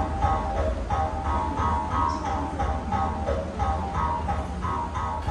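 A child plays a homemade bamboo jaw harp (lubu) in a Taiwanese Indigenous school, producing a steady, buzzing twang with a pulsing rhythmic pattern that continues throughout at moderate loudness.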